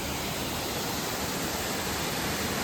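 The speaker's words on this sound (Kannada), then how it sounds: "ಕೆಳಗಡೆ ಫಾಲ್ಸ್ ಮೇಲೆಯಿಂದ ಹೆಂಗ್ ಬರ್ತೈತೆ ನೀರು ನೋಡೋಣ" Ermai waterfall near Dharmasthala sends water rushing over rocks in a steady, loud broadband roar that fills the whole stretch with no pauses and no voices.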